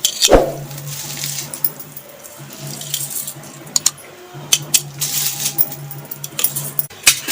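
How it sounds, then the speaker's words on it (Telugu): Rice tipped into a pot of water with lemon juice for leafy-greens biryani, with a sharp splash and rattle, followed by light clinks and watery stirring sounds. "ఇప్పుడు బియ్యం వేసుకుందాం"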